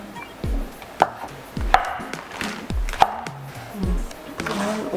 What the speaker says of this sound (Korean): 고기 대신 버섯? 얇게 썰어.